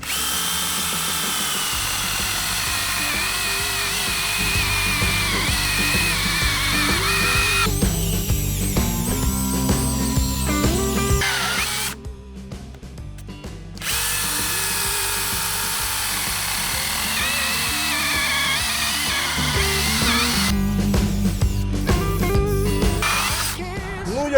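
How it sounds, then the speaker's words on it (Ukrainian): A Dnipro-M DMS 201 BC cordless mini chainsaw running on a 4 Ah battery cuts through dry deadwood, its steady motor whine loud and close, dipping briefly mid-cut before resuming strongly. "Буду різати сухий такий вальожник, трішки більше на чим на півшини."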